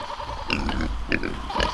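Several pasture pigs grunting and oinking close by in short, overlapping bursts at morning feeding, fairly loud against a low background rumble.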